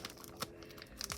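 The plastic wrapping on a K-pop album is torn open in quick, faint crinkling and ripping bursts at close range.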